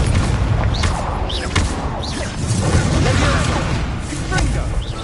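Incendio fire spell cast in Hogwarts Legacy, loud magical whooshes and bursts layered over game music and effects, with a voice speaking briefly among them.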